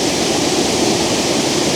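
Lower Campsie Falls pours in a steady, loud, broadband rush of falling water, close by and unbroken, with no voices over it.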